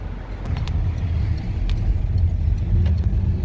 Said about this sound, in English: Ferry traffic, cars, coaches.